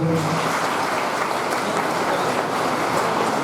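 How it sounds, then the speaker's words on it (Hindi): Steady audience applause honoring elders at an Independence Day celebration, a dense, even wash of clapping throughout with no clear breaks. "तो सबसे पहले हम अपने सामने उपस्थित अपने बुजुर्गों के लिए एक बार जोरदार तालियां बजाएंगे"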